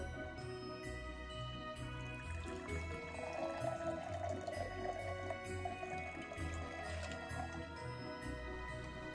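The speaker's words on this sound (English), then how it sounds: "Using our Hawthorne strainer, we'll strain our drink into our glass." A cocktail is strained through a Hawthorne strainer into a glass, giving a soft continuous trickle and splash of liquid that stays fairly faint and alone.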